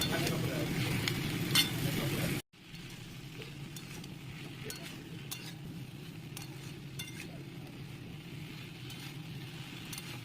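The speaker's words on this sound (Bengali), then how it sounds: "ভাজা হতে হতে এবং মশলাটা কষতে কষতে একটু নাড়িয়ে চাড়িয়ে নেব।" Spices and Malabar spinach stalks fry and get stirred in a pan for a Bengali chorchori, a louder burst of sizzling and scraping at first, then a softer steady fry after a brief cut.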